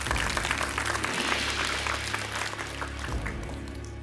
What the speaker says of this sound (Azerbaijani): 4 nəfər alqışları eşidir